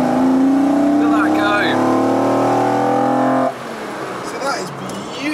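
Classic BMW 3.0 CSi engine running with a steady mechanical drone, holding a loud even tone before dropping to a lower, rougher note partway through; a voice can be heard in the background.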